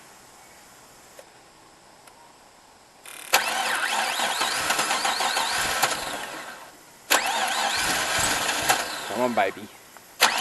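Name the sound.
turbo LS1 engine cranking and starting after injector clean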